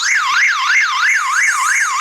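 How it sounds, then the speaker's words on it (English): A ZOMM key fob alarm sounding, a loud piercing electronic tone sweeping up and down in a fast, regular warble, close and continuous with no talk. "you can hold the Z button for about 5 seconds and an alarm will start to sound"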